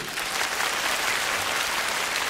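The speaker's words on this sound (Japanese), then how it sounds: "拍手" A crowd applauding steadily at a video game music concert, a dense wash of clapping that holds constant throughout with no talking.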